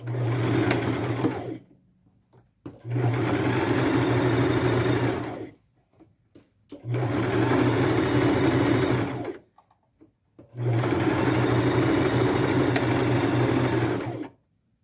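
A sewing machine stitches sleeves onto an upcycled t-shirt, running in three loud steady whirring stretches of a few seconds each, separated by short pauses of near silence.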